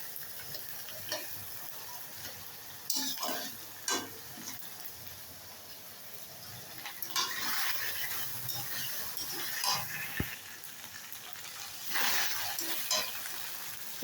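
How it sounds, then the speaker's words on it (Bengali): Potatoes fry in a pan with onion and garlic, giving a soft, steady sizzle broken by repeated scraping and clicking stirs, heard close and quietly with no voices. "একই সঙ্গে পেঁয়াজ রসুনের সঙ্গে আলুটাও কিন্তু এখানে আমার ভাজা হয়ে যাবে"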